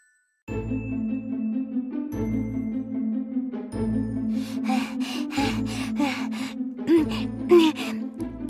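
A voice imitates a breathless bus from a children's story with repeated rhythmic panting gasps, close and loud, over a steady musical drone.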